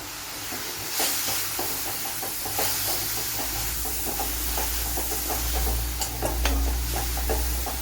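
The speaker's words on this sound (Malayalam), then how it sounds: "ഇതിലേക്ക് കുറച്ച് കറി ലീവ്സ് കൂടെ ചേർത്ത് കൊടുക്കുക." Curry leaves sizzle in hot oil in a pan of Kerala tapioca stir-fry, making a continuous loud hiss with a low rumble beneath. Regular soft scrapes and clinks of stirring run through it.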